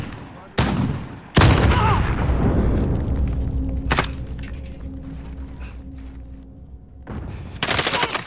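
Close, loud gunshot blasts go off in an online shooter game, with a sharp burst early on, an echoing decay and a rapid volley near the end, with voices heard briefly.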